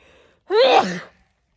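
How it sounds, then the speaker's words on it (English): A single sharp sneeze bursts out close by after a moment of faint background, its breathy tail fading within about half a second. "I will sneeze right now"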